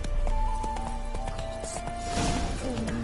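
Horse galloping in The Witcher 3, with steady clip-clop hoofbeats running close and loud over a constant game ambience and a sustained tonal hum, a brief surge of rustling noise midway.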